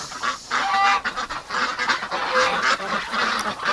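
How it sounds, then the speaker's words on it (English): Muscovy and other ducks in a muddy winter yard, honking and calling continuously from close by, overlapping raspy calls with no voices. "There's some really dirty ducks."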